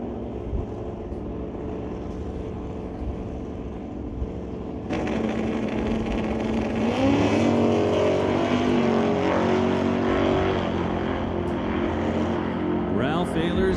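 Drag race cars launching down the strip at a Pro race event, a quiet idle rumble suddenly jumping into a loud sustained roar of engines accelerating away, heard from a distance with crowd ambience.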